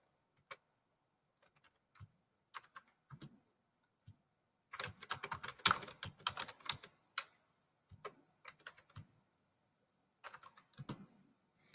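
Keys on a computer keyboard are tapped in short irregular bursts, quiet and close, with a denser flurry of typing in the middle and no talking.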